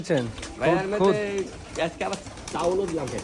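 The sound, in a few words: pigeons cooing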